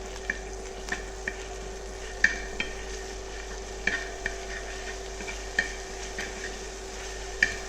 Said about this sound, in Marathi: थोडंसं लाल तिखट घालायचं आहे आणि व्यवस्थित असं मिक्स करायचं आहे